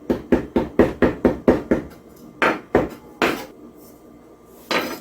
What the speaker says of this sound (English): usually to help the rosemary kind of give off its oils and flavor, you just kind of want to beat it up a little bit